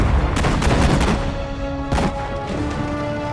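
Bursts of rifle and machine-gun fire crackle through a World War II battle in the Hurtgen Forest in Sudden Strike 4, with dense volleys early, a lull, then another sharp crack and renewed shooting.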